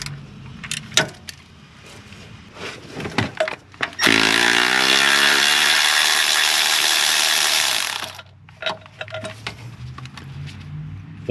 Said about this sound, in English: These are 2 15mm bolts. We know these are gonna have to go, so start off with these